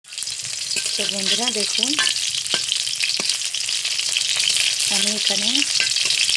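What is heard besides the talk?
chicken pakoras frying in a pan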